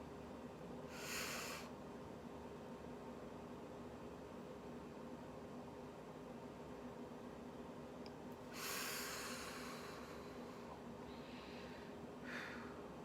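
Three deep, close breaths, each a loud airy rush of a few seconds separated by quiet pauses, are heard over a faint steady room hum without speech.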